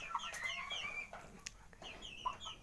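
Pelung roosters and chickens clucking and calling in a coop, with several short bright calls and cackles close by, one after another with brief gaps.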